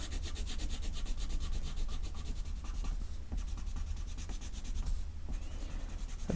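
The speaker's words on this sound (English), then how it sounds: "I'm going to colour it all first using the same technique, my pencil crayons on its side" Steady, soft scratchy rubbing of a colour pencil crayon laid on its side on paper, continuous strokes with a faint rhythmic grain, close and quiet.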